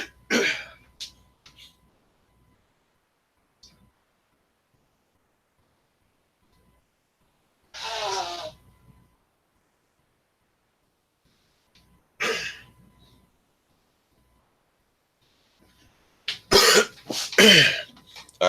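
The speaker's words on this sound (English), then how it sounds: "Hold on, let me go blow my nose again" A person with a cold blows their nose in several separate bursts, three or four loud, close honking blasts with long silent gaps between them.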